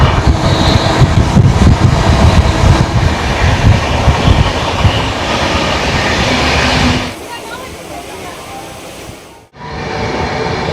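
Passenger train running from Kolkata's Howrah station toward Jhargram, non-stop after Kharagpur: a loud, steady onboard rumble of wheels and carriage noise that softens after about seven seconds, with a brief near-silent dip shortly before it resumes.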